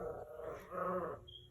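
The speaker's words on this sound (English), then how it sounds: "Excuse my dog, guys." A dog growls in two short, low rumbling bursts indoors, close and fairly quiet, followed by a faint high tone.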